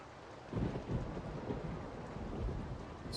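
Steady rain and low rumbling thunder from the RollerCoaster Tycoon 2 video game, with a dense wash of rainfall running throughout and deeper rolling thunder swelling at intervals, no voices.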